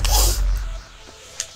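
A single sharp sneeze bursts out near the start, followed by quiet room noise and a faint click.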